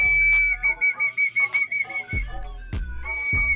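A loud, sharp whistle blows at a pigeon loft, sounding in a series of quick trilled pulses and a few long blasts.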